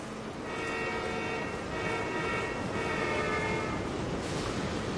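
A train passes in the Ghost Recon Wildlands video game, a steady rumble of rolling cars with a few drawn-out horn-like tones swelling and fading over about five seconds, no voices.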